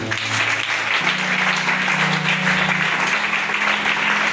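A church congregation applauds and cheers in worship of God. The clapping is loud and dense and runs continuously, with a sustained organ or keyboard chord underneath, and no one speaks.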